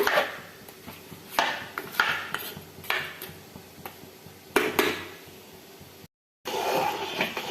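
A utensil scrapes and knocks against a pan while stirring thick jaggery filling for puran poli, giving repeated clinking strokes at an irregular pace, close by, with a brief dropout near the end.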